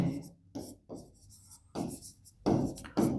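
Pen or chalk scratching out a few quick strokes in short bursts, close by, while a teacher talks over the writing.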